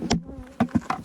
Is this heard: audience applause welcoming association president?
no